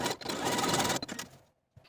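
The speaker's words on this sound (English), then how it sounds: "take it to your sewing machine and zigzag back and forth to secure" A sewing machine zigzag stitches back and forth over elastic in a burst of fast mechanical stitching lasting about a second, then briefly restarts before stopping, close and clear.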